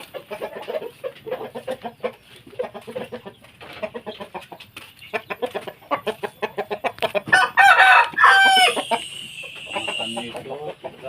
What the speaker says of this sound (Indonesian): Kita kasih makan ayam dulu.